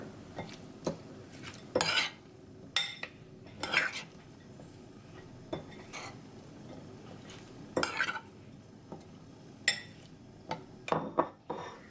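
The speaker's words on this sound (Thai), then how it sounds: "นำมาคลุกกับหมู ที่เราลวกไว้แล้วนะคะ" Spicy, sour lime dressing mixed into blanched pork in a bowl, heard as quiet, irregular clinks and scrapes of a spoon against dishware with soft wet stirring between them.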